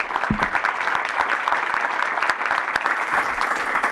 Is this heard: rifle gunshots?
no